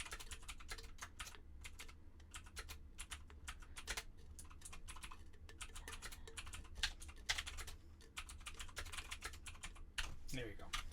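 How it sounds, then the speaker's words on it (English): Rapid typing on a computer keyboard, with quick irregular clicks and short pauses running steadily throughout, fairly close and quiet, with faint background sound. "when I saw you typing it"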